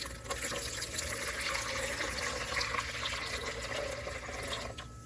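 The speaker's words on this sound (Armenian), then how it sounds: "Լցնում ենք 700 մլ ջուր։" Roughly 700 ml of water is poured into a container in a home kitchen, a steady, close, hissing rush of liquid that runs unbroken for several seconds with no voices.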